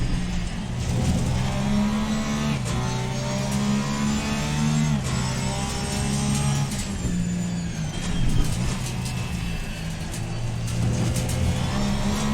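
A Ferrari GT race car engine drones loudly in Assetto Corsa Competizione during a night race, revving and shifting through gears in steady rising pulls with a continuous mechanical roar.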